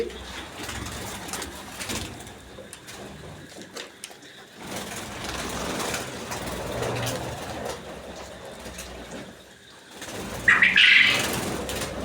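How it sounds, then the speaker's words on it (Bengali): Bursts of wings flapping as quail flutter about nearby on a farm, with soft cooing and a steady background rumble, growing louder near the end. "এই যে পাখিগুলো উড়াউড়ি করিচ্ছে"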